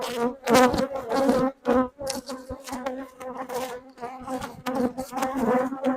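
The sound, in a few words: honey bees buzzing in an open beehive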